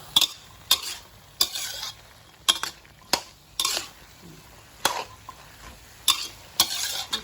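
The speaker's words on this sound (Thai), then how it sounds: "เราก็คน แล้วคนให้ทั่ว" A spatula stirs long beans in a red curry stir-fry, scraping and clattering against the pan in repeated sharp strokes about every half second, with a faint sizzle underneath and no talking.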